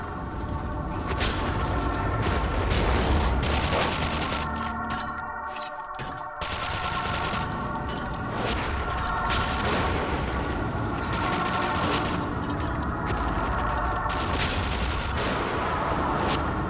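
Rapid gunfire from shooting zombies in Cryostasis: Sleep of Reason, dense repeated shots running almost continuously over a loud game soundscape with a brief lull midway.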